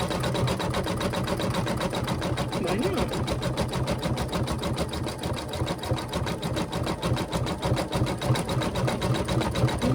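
A sewing machine stitches continuously with a fast, even mechanical rattle close by, while a voice speaks briefly over it.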